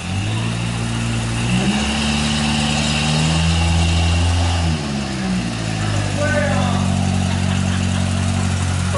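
A propane-injected supercharged engine in a 2003 Nissan long-travel truck on 46-inch tires runs loud and steady, its pitch rising and falling through revs, with people talking over it.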